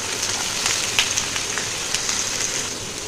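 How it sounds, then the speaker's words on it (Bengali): Pointed gourd (potol) frying in oil in a pan, a steady close sizzle with dense crackling and scattered sharper pops throughout, no voices. "দেখো পটলটা আগে ভেজে নিচ্ছি"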